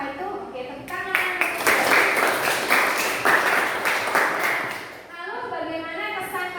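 Students applaud in a classroom, a burst of brisk clapping lasting a few seconds with voices before and after it.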